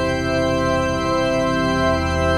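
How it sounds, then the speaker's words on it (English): Church organ patch on a BOSS GM-800 guitar synthesizer with only the top stop soloed, a steady sustained chord of bright, stacked organ tones held at even loudness throughout, with no voices. "Here's the church organ I played in the beginning"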